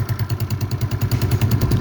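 A Yamaha Mio scooter engine, freshly assembled, idles steadily with an even, rapid chugging pulse and light mechanical clatter, close and moderately loud throughout.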